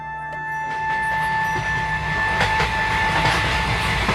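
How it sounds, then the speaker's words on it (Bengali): A train rumbles steadily with a continuous low mechanical drone and faint clatter, close and fairly loud, with no voices. "স্টেশনে আসতেই ট্রেনটা পেয়ে গেলাম"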